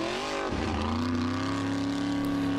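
A Formula Offroad car's engine revs hard and holds a loud, steady high drone, rising in pitch after a brief dip, heard from a distance at an Icelandic offroad event in the USA.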